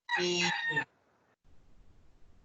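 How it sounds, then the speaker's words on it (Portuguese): A rooster crows once nearby in a single loud, drawn-out cock-a-doodle-doo lasting under a second, followed by quiet background murmur. "tem um galo cantando aí."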